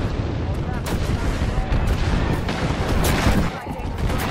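Airstrike explosions in the Apex Legends video game, a dense, continuous rumble of booms and blasts that holds steady over several seconds, heavy and loud, with talk likely mixed in.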